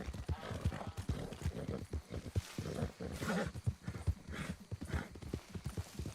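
Horse hooves clip-clopping steadily in the Red Dead Online video game, a continuous rhythmic trot of hoof falls close up, with no talk over it.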